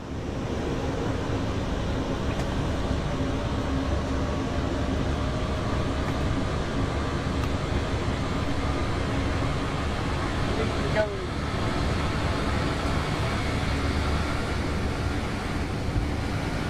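A Vectron locomotive cab in the Train Sim World 4 game, windows open, gives off a loud, steady, even rumble and rush of running noise that holds unchanged throughout.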